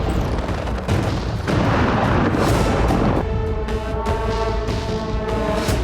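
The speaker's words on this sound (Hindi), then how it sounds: "यूक्रेन ने एंगल्स एयरबेस पर इसीलिए ड्रोन विस्फोट किए।" Drone strike blasts at the Russian Engels airbase: a continuous, loud, rumbling roar of explosions with repeated heavy booms and crackling bursts, dense and sustained throughout with no pauses.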